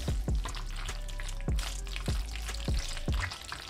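Cooked pasta is stirred into a cheese sauce with knobs of butter, giving wet squelching and sloshing with regular soft slaps and a sizzling hiss underneath, steady and close.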